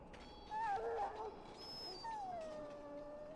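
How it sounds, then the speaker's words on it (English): A dog in Dragon Age: Origins whines and whimpers near the Ostagar ruins, a short wavering cry followed by a long descending howl-like whine, fairly close over a quiet ambient background. "Dog looks up at you respectfully, backing down from his aggressive stance."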